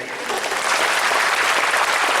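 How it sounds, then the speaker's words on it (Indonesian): A stand-up comedy crowd in Aceh applauds Cak Lontong, a bright, even wash of many hands clapping that swells slightly and holds at full strength, close and continuous with no talking over it. "Tapi tepuk tangan buat istri saya"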